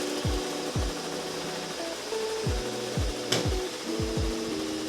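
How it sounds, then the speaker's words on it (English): An embroidery machine stitches a flag onto a sleeve, giving repeated close mechanical thumps in an uneven rhythm over a steady motor whir, with no talk. "I'm embroidering the flag on the sleeve."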